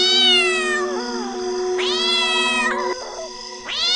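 A cartoon cat meows loudly and up close, three long drawn-out calls over a steady tonal background hum.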